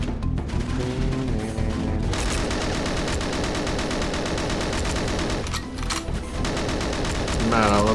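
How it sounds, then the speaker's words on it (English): Rapid automatic fire from the KF7 Soviet AK-47 style rifle in the shooter game GoldenEye Source, dense bursts of gunshots filling nearly the whole stretch with brief gaps, loud and close, with game effects mixed in. "It's just basically this game's version of an AK-47"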